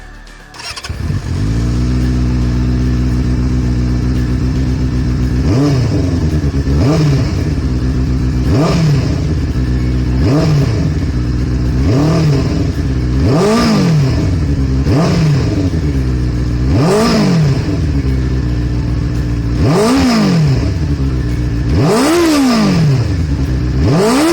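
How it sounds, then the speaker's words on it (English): A loud Benelli TNT 600i motorcycle with an aftermarket exhaust starts and idles with a deep rumble, then is revved repeatedly in sharp, rising bursts that fall back each time, about a dozen throttle blips. "If you really like that loud sound, then yes, you can go for the aftermarket exhaust."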